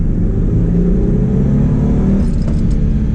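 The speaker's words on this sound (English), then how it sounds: "we've got it in first gear. We're gonna do a little roll into it" A 2000 Ford Mustang with a 3.8-liter pushrod V6 pulls in first gear, its engine note loud and close as it rolls into the throttle and climbs slightly in pitch over a few seconds, with no talking.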